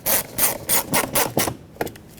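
Screws being driven by hand into the lower edge of a front interior door panel on a 2006-2010 Hyundai Sonata, heard as a run of close, rhythmic rasping turns in short bursts with no talk.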